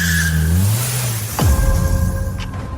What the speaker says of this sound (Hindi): ड्राइवर वापस आया और गाड़ी स्टार्ट करके आगे बढ़ गया।